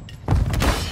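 A grenade blast in Call of Duty: one sharp, close explosion bursts out after a short quiet lead-in, followed by a booming, rumbling tail.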